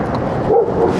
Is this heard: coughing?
no